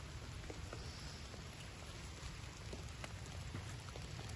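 Soft, steady rain falls at a farm, a faint continuous hiss with scattered light drops hitting surfaces nearby, and no voices.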